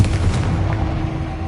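Confringo blasting spell cast in the Hogwarts Legacy game, heard as a loud, dense rumbling burst with a strong low boom that sustains through the moment, no voices over it.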